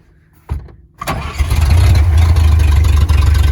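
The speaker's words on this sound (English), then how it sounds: "Just give it the ignition here." A 1938 Chevrolet Master Deluxe cranks with two short bursts from the starter, then catches and settles into a loud, steady engine run that holds for the rest of the moment, close up and with no voices.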